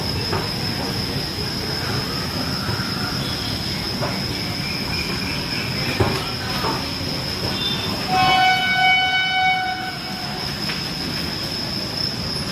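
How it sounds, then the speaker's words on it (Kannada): A KSR Bengaluru Express train stands at a platform at Nanded station, with a steady rail rumble and squeals, and a long horn-like tone toward the end. "ನಮ್ಮ ಟ್ರೈನ್ ಬಂದುಬಿಟ್ಟು 2ನೇ ಪ್ಲ್ಯಾಟ್ಫಾರ್ಮಲ್ಲಿ ನಿಂತ್ಕೊಂಡಿದೆ ವೀಕ್ಷಕರೇ"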